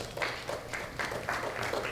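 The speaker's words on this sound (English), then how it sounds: "Give her a nice, gentle round of applause." Light, brief applause from a small group, soft and steady for a couple of seconds.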